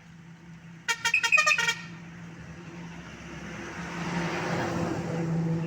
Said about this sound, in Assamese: ইতিমধ্যে গাড়ী চলাচল হৈছে।